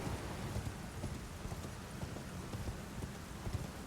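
A horse's hooves clip-clop in rapid, steady rhythm in the video game Elden Ring, close and continuous over a faint rain-like hiss, with no voices.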